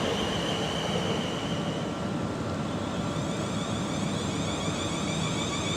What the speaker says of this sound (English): There goes Guildford train.